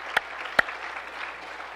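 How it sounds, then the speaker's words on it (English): Church congregation clapping in praise to God during a service, two sharp, distinct claps standing out over a faint, quieter background patter of scattered hands. "Let's give God a clap of praise."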